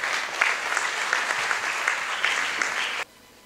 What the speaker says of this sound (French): mesdames et messieurs, sous vos applaudissements s'il vous plaît